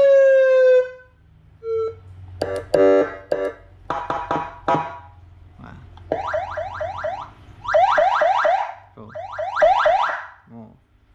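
A loud Whelen SA40 vehicle siren speaker cycles through several tones: a steady wail, rapid yelps, and chirping warbles, each burst separated by brief gaps.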